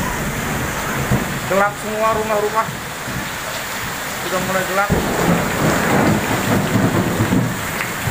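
Heavy, steady rain pours down during a power outage with thunder rumbling underneath, while someone talks over the downpour throughout.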